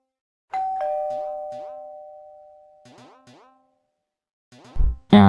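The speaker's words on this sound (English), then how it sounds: "I think the doorbell rang again." A doorbell rings with two clear chime tones that ring on and fade, followed by repeated shorter chimes, and a short thump of noise at the end.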